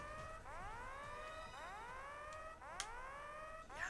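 A repeating siren-like alarm in the arcade shooter Blazing Star, with rising swept tones cycling roughly every second over game music and effects, steady and fairly loud with no talk.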